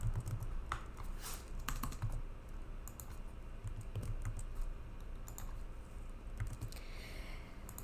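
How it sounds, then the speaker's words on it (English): Computer keyboard typing in bursts of quick clicks with short pauses, close and fairly quiet, during teacher training entry of broadcast schedule details. "So I'll quickly type that information in again."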